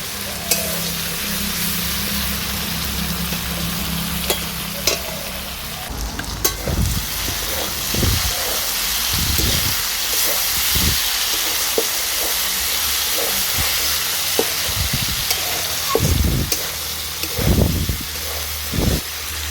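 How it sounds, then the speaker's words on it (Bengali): Taro stolons (kochur loti) frying in a pan give off a steady sizzle, broken by repeated scraping stirs of a spatula that grow more frequent toward the end; no one speaks. "লতিটাকে বেশ কিছুক্ষণ আমি ভেজে নেব।"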